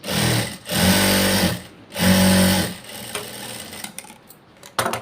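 Sewing machine stitching blouse pieces, running in two loud bursts of steady needle hum separated by short pauses, then falling quiet to light handling clicks and rustle near the end.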